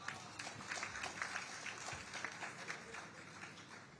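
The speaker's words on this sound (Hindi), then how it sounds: "देखिए, तालियां तो एक बार फिर से उनके लिए बनती हैं।" Faint applause from the audience at a Hindi poetry gathering in Kolkata, a soft, even patter of many hands clapping, heard from a distance with little else over it.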